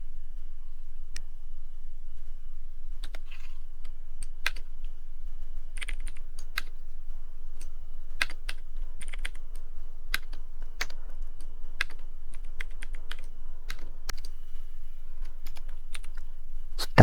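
Someone typing on a computer keyboard, irregular bursts of light key clicks spread over a long stretch, close and crisp against a quiet low hum, with no talking.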